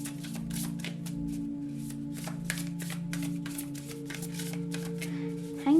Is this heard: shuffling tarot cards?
yes